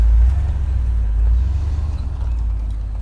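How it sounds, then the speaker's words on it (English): Heavy 7 a.m. road traffic rumbles close by with a low engine drone, and a passing vehicle fades off. It plays steadily with no voices. "A lot of traffic for 7 o'clock in the morning."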